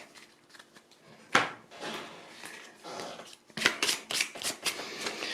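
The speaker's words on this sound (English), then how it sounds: "Shuffle this shit up" A deck of game cards for the tabletop game Endangered is shuffled by hand, with soft riffling bursts and sharper card snaps in irregular rhythm, close and fairly quiet, with no talking.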